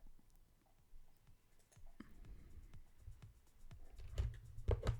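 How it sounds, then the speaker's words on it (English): Faint computer keyboard typing and mouse clicks tap out in quick irregular bursts, close by and quiet, with a few louder thumps near the end. "It was keyboard."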